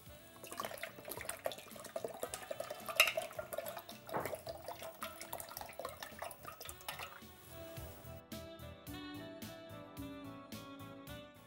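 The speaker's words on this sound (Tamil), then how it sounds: "இதோடு வந்து தண்ணி சேர்த்துக்கலாம்." Water is poured into a spiced digestive drink mixture in a kitchen, with splashing and clinking that rise and fall, followed by a lighter trickle near the end.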